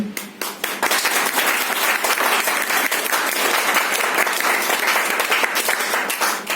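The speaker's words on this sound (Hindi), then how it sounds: "ठोको ताली।" An audience at a marketing training session in a hotel claps in a loud, dense burst of applause that continues evenly for several seconds, with a brief voice at the start.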